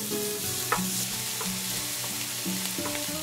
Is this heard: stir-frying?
yes